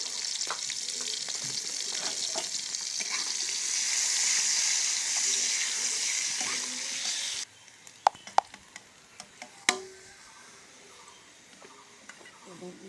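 Fried dried red chillies go into sizzling oil in a pan for a dried-fish and gourd-leaf dish. A loud, steady sizzle drops suddenly and gives way to sharp stirring knocks and scrapes against the pan.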